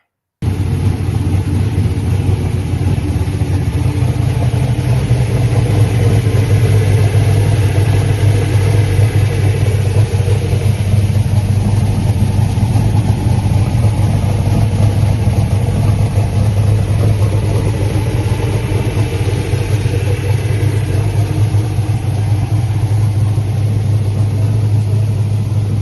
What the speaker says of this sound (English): We got a little video of your car running here.